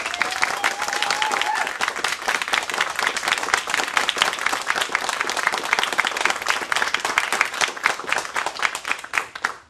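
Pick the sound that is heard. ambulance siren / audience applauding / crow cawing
audience applauding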